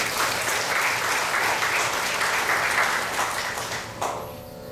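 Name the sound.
applause welcoming Pandit Toolsie Persad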